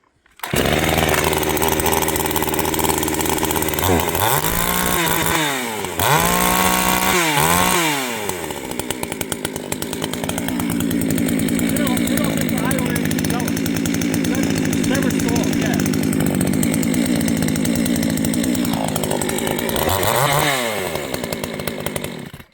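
A small Pinkway chainsaw engine starts with a few short revving bursts, then settles into a loud, steady, buzzing run close by, and gives a couple of brief blips near the end.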